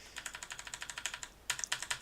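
A computer keyboard clatters with rapid, even keystrokes, close and fairly quiet, then pauses briefly before a sharper burst of quick presses, with no talk.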